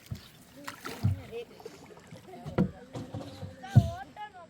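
A boat rowed on a reservoir in Sri Lanka, three soft oar strokes and gentle water swishes spaced a second or so apart, with people talking nearby.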